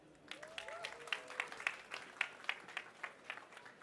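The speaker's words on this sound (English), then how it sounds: "let's give a big applause to our team who built this" An audience at a talk on building an all-in-one ecosystem in the Middle East claps for the team, a fairly faint, brief patter of applause with a voice briefly heard over it.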